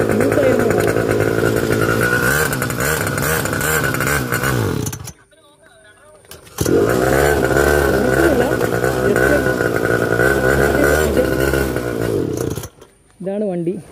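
A pocket rocket mini bike engine revs loud and close in two long sustained bursts separated by a short quiet gap, then gives a brief final rev near the end.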